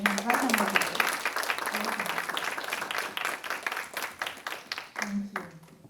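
Sustained audience applause in a hall at the KARCIEF 2025 Islamic economics and finance conference, dense clapping continuing for several seconds with a voice speaking over it briefly at moments.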